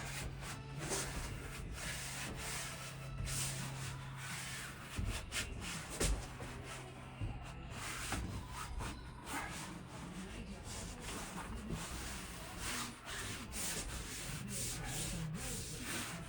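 Hands rubbing insulation into contours, a steady soft scraping and brushing close by, continuous with small shifts in pressure.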